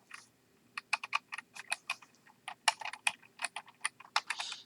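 Rapid typing on a computer keyboard, a dense run of crisp key clicks in uneven bursts with brief pauses, close and clear with no talk.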